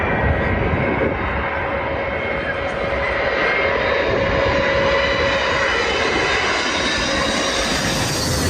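A steady, loud roar of an airplane engine gliding through falling snow fills the clip without letup, a broad rushing drone with a faint tonal hum underneath.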